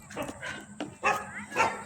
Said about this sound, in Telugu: చూసారా, కుక్కలు కూడా అరుస్తున్నాయి